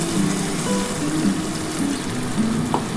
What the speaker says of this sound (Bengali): আর সামান্য একটু জল দিয়ে দিচ্ছি